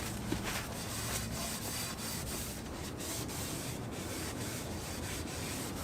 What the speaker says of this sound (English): I'm gonna start by wiping down the inner part of the rim.